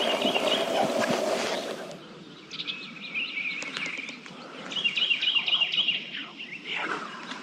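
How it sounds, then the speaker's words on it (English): Wild birds chirp and call repeatedly outdoors during a spring turkey hunt in palmetto scrub, with bright tweeting phrases rising above a steady background of insects and rustling, moderately close. "Oh, that's a bird we heard."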